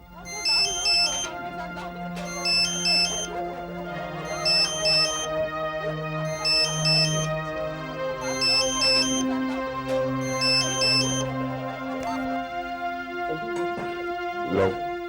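A mobile phone ringtone plays continuously at a family dinner, a looping melodic electronic tune with repeating bright bursts, steady and fairly loud throughout.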